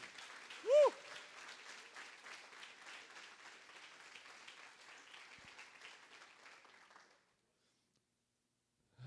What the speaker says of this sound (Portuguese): Se é para Jesus, você pode aplaudir mais forte